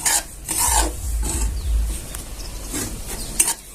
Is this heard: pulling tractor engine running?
no